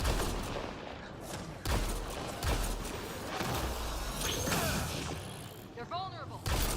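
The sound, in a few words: gunfire in a video game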